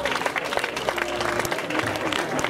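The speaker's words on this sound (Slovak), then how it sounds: "Takže ešte raz veľký aplauz," A crowd gives steady applause for a winner at the Continental running race at Pustý hrad, a dense, continuous wash of clapping at close range.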